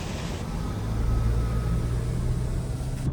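A Mahindra Thar Roxx SUV slows down on the Samruddhi Mahamarg highway, giving a steady low engine and road rumble with wind noise inside the cabin.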